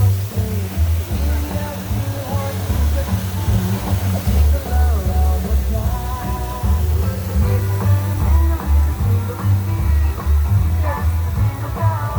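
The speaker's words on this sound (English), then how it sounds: "There's the water." Water flows and splashes steadily along the Christmas boat ride inside the Gaylord Opryland hotel, a continuous rushing wash under music and chatter from people nearby.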